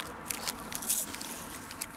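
Close, faint crunches of biting and chewing a crunchy chocolate-coated snack, cold and hard, outdoors at a river sluice gate, a few soft crisp snaps scattered over quiet background noise.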